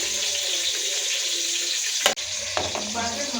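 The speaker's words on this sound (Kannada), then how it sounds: "ಬಿಸಿನೀರು ಇಲ್ಲಿ ನಾವು 6 ಗ್ಲಾಸ್ ನೀರು ಒಯ್ತಾ ಇದ್ದೀವಿ." Hot water pours steadily into a pot for chicken biryani rice at home, a continuous close rush with a brief clunk partway through before the flow resumes.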